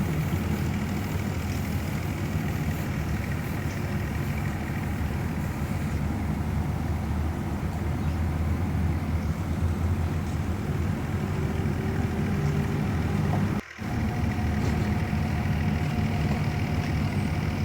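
A 2007-model tractor engine runs steadily to drive a shaft-system tubewell pump, a loud, continuous low diesel rumble with one brief dropout near the end.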